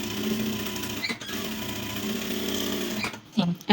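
An electric sewing machine stitches a girl's kameez with a steady, close, rapid whirring run that pauses briefly and then starts again in short spurts near the end.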